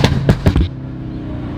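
Rapid, loud exhaust pops and crackles from a car in a racing video game fire off in a quick cluster of four or five bangs, then give way to a steady engine drone.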